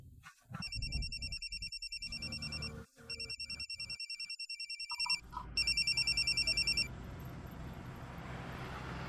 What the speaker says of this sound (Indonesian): Saya lagi usaha tapi keganggu sama telepon kamu.